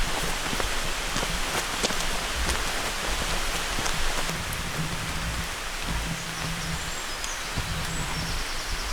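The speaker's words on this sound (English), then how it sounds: "The rain is starting to pick up." Steady rain falls outdoors along the Cornwall coast, a dense, even hiss of drops on surfaces continuing for several seconds without pause.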